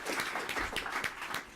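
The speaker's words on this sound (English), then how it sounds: "You can applaud." A conference audience at a cybersecurity policy event applauds a congressional legislator, with brief scattered clapping, moderately loud and fairly close.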